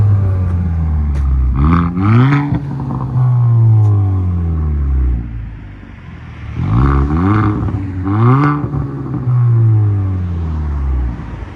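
A 2023 Kia Forte GT with a muffler delete revs twice, each burst climbing sharply then settling into a loud, raspy exhaust drone close by, with no voices over it.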